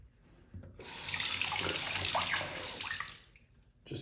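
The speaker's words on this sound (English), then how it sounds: "I'm gonna rinse this side off." Running tap water pours steadily over a 1928-S Peace silver dollar being rinsed at a sink, a continuous close splashing hiss lasting a few seconds before cutting off.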